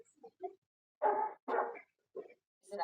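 A dog in a late-1980s film scene gives a few short barks and whimpers, with two louder yelping bursts in the middle and fainter whines around them, close to the listener.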